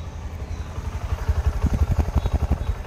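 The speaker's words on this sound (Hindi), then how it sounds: "और एग्जॉस्ट का साउंड सुना देता हूँ आपको" A 2024 Honda SP 125 motorcycle idling, heard close at the exhaust: a soft, even low putter of regular pulses that grows slightly louder and firmer midway, with no talking.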